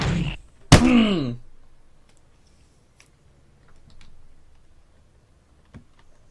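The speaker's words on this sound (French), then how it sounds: "Excusez-moi pour le bruit, j'ai juste un peu tapé sur mon clavier." A sharp thump as a computer keyboard is struck hard, followed by a groaning vocal sound, then faint scattered ticks and taps in a quiet room.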